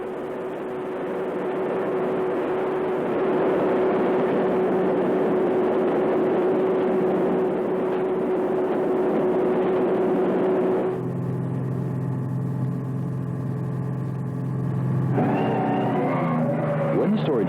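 A cotton picker runs in an Australian cotton field in 1976, giving a steady, loud mechanical drone that shifts into a lower, more tonal engine hum partway through and stays continuous throughout.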